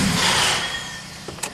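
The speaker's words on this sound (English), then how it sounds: "I'm actually going to hop in and try to rev it up and see if it starts up or not." A struggling Nissan Sentra that barely runs cranks and revs up close and loud, the engine noise fading over the second as it fails to catch, with a few small clicks at the end.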